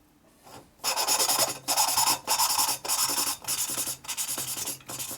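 A valve being lapped onto its seat in the engine of a 2001 Gilroy Indian motorcycle being rebuilt: harsh, gritty rasping strokes in bursts about every half second to second, close and loud, with short pauses between, no talking.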